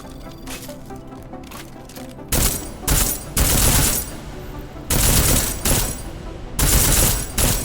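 Armor-piercing rounds are fired at a shooting range in Deus Ex: Mankind Divided, in several loud, rapid bursts of gunfire separated by short pauses. Quieter background noise lies under the shots.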